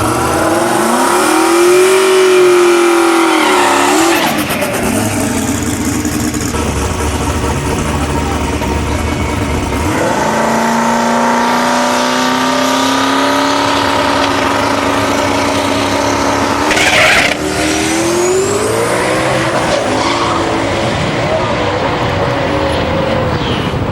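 A single turbo Fox drag car makes a pass at a Street Car Takeover event in Denver. The loud engine note climbs repeatedly in pitch, dropping back at each gear shift as it pulls away, with no talking.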